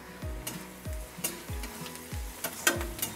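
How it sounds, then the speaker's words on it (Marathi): Finely chopped desi garlic with asafoetida and turmeric sautéing in a pan, a soft sizzle under a regular series of about five spatula strokes and taps, each with a low thud, close and quiet, no speech. "1 मिनिटभर आपण ह्याला परतूया"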